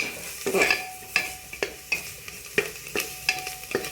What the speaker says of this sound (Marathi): आता आपलं बेसन या ठिकाणी परतत आलेलं आहे.